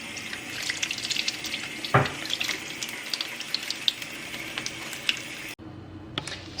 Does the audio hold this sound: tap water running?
yes